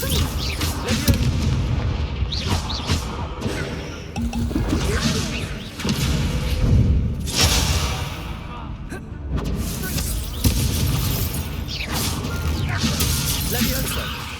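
Incendio fire spell blasts in Hogwarts Legacy during combat, a dense run of repeated booms, crashes and thuds with shattering hits throughout, fairly loud, with a voice talking over the action.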